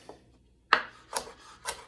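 Knife slicing a carrot on a cutting board, three separate crisp chops spaced about half a second apart, close and clear in a quiet kitchen.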